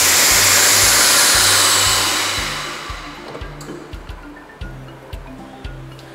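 Vacuum packing machine pumping air from a bag of potato product: a steady loud broadband hiss that fades over a few seconds, followed by rhythmic low mechanical thumps and clicks as the sealing cycle finishes.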